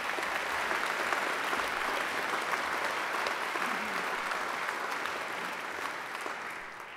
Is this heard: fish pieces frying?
no